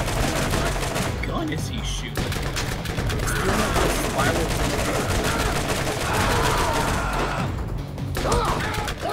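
Rapid gunfire rattles almost nonstop in a Borderlands firefight, loud close bursts overlapping with impacts, while players talk over the shooting.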